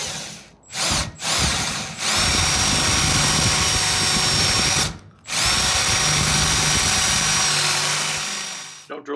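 A power drill bores into an exhaust hanger rivet on a Buick Grand National catalytic converter held in a vise. The whine runs loud and close in long steady bursts, with two brief stops early and one more near the middle.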